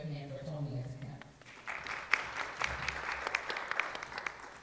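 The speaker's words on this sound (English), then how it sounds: "So let's give a hand for Tony as a panel." A seminar audience gives a short round of applause for a presenter, a moderate crowd clapping that starts right after a person speaking and goes on steadily to the end.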